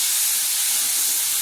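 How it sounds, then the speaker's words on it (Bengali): Close, continuous sizzle of shrimp frying in hot oil in a pan, a dense, even hiss heard alone. "ভাজা হয়ে গেছে চিংড়ি মাছটা।"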